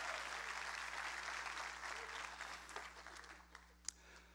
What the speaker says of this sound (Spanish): dale más fuerte ese aplauso al rey